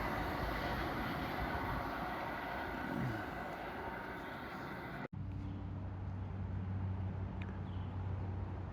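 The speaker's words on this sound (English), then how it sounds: "seeing train that is 6:45 from Hoboken to Dover, pass by now" An NJ Transit train rumbles through Mountain Station in South Orange, a broad continuous roar of wheels and engine that cuts off abruptly after a few seconds, leaving quieter station ambience with a low hum.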